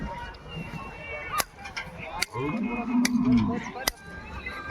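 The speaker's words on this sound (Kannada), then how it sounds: "ನೋಡ್ರಿ ಇಲ್ಲೆಲ್ಲ ಅದಾವ ನೋಡ್ರಿ ಎತ್ತುಗಳು" Bullocks crowd a cattle gathering, and one lets out a low, drawn-out moo midway through. Outdoor crowd noise, people talking and scattered sharp clacks surround it.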